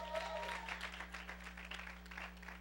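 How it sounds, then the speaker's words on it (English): Soft scattered applause from a church congregation greets a stand-in musician, quiet and somewhat distant over a steady low electrical hum. "Stephanie, let's give Stephanie a round of applause."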